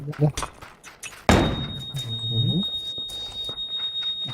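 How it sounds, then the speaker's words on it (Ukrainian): In a PUBG match, a grenade lands with a sudden heavy thunk and clatter, followed by a short rising metallic ring and faint beeping, close by, with players' voices talking around it. "Откуда-то граната пришла."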